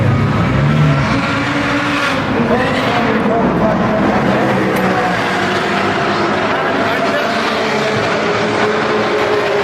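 A Porsche GT3RS Weissach runs at Spa with its engine roaring loud and steady throughout. Wind and road noise blend into the engine sound and there is no break in it.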